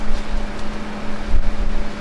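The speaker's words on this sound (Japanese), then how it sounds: "蒸気が出てきました。" Steam hissing steadily from a pot of rice cooking on a 1800-watt IH induction cooktop at medium heat inside a car, mixed with a cooling fan's whir and a low steady hum.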